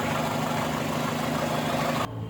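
A car engine idles steadily after an ECM temperature sensor fault repair, a loud, even hum with a low drone that cuts off abruptly near the end.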